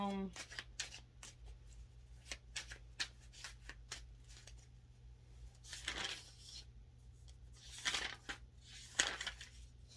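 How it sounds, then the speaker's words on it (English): Tarot cards shuffled by hand in repeated crisp riffles and slaps, growing denser and louder toward the end, with a voice talking faintly alongside. "I don't know why I started shuffling"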